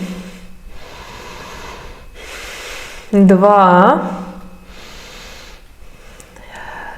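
Breathing during a yoga exercise, a held plank pose on a mat: soft rhythmic inhales and exhales close to the microphone, with a spoken count between breaths.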